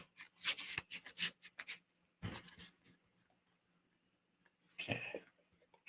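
A Prisma tarot deck is shuffled by hand in close, crisp bursts of riffling and sliding cards, separated by short quiet gaps.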